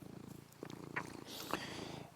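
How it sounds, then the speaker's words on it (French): A big old cat, twelve or thirteen years of age, purrs softly right next to the microphone in a steady rhythmic rumble, with faint airy breathing sounds on top. "un gros chat ronron."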